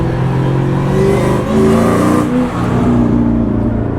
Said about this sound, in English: the stock Eaton M12 blower on it, the supercharger. It screams.